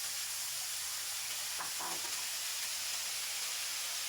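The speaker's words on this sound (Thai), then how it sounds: "ผัดให้น้ำซอสกับวุ้นเส้นคลุกเคล้าให้เข้ากันให้หมดเลยนะครับ" Pork belly, glass noodles and sauce stir-fried in a wok give off a quiet, steady sizzle and hiss. A brief scrape of stirring comes near the middle.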